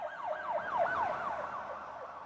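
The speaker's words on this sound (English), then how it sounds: "the sound of a police siren" A police siren wails in rising and falling sweeps, loud and steady across the whole stretch with no voices.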